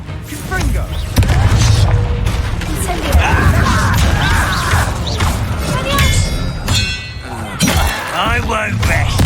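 Confringo, an explosive fire spell cast in the game Hogwarts Legacy, with booming blasts, shattering crashes and ringing clangs throughout a loud combat scene, with voices talking over the fighting.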